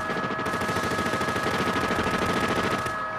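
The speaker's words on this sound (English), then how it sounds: "Officers find themselves against a fully automatic modified AK-47" A fully automatic modified AK-47 with armor-piercing rounds fires during the 1997 North Hollywood bank shootout, producing a loud, continuous rapid burst that stops near the end.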